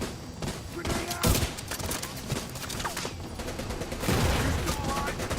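In Division 2, a grenade lands and blows up amid steady bursts of gunfire, a heavy thump standing out near the middle of the dense fire. Voices are faintly audible in the mix.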